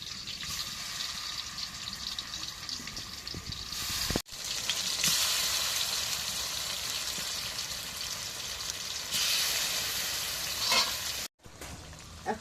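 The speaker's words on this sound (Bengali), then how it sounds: "এখন মাছটা কড়াইয়ের মধ্যে দিই।" Fish fries in hot oil in a wok with a loud, continuous sizzle that surges after brief cutouts, with faint stirring and clatter underneath.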